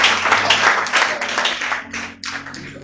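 Church congregation applauding the Lord during a Sunday worship service, a dense, steady wash of many hands clapping together, loud and close, with faint voices mixed underneath.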